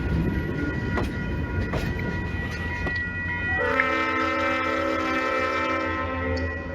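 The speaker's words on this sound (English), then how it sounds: "we caught Western Maryland 450 coming back in with a Leslie RS 5T air horn." A Leslie RS-5T air horn on Western Maryland locomotive 450 sounds loud and sustained over the rumble and clatter of a passing train, its chord holding steady.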